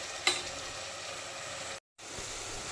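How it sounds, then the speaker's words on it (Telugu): Two large onions fry in a pan for a chicken egg curry, giving a faint, steady sizzle with one brief clink near the start. The sound cuts out for a moment near the end. "పెద్ద ఉల్లిపాయలు బాగా పెద్దది 2 వేసాను. కొంచెం కలర్ చేంజ్ అయ్యేదాకా వేగాలి."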